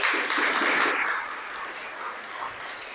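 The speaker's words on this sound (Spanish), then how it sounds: "Dale un aplauso al Creador." Applause from an audience, a dense wash of clapping that is loudest at first and then eases to a softer, steady patter.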